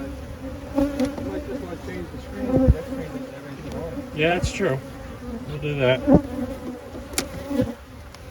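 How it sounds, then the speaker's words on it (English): Honeybees, mostly young nurse bees, hum steadily around an open hive, with individual insects buzzing close past at moments while a person speaks briefly. "I think it's just primarily nurse bees that haven't gotten to the point where they go out and forage"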